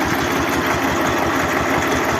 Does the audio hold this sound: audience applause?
no